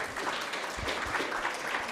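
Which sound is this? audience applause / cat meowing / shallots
audience applause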